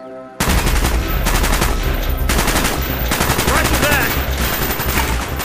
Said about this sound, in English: Mason, fire when ready